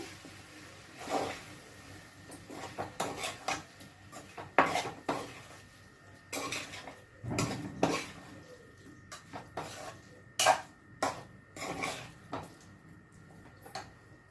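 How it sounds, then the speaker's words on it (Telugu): Prawns being mixed with ginger paste in a pan, heard as repeated clinks and scrapes of a utensil against metal in an uneven rhythm, close and moderately loud, with no speech. "రొయ్యలన్నీ వేసి ఒకసారి రొయ్యలకి అల్లం పేస్ట్ అది నీట్గా పట్టేటట్టు కలుపుకున్నాము"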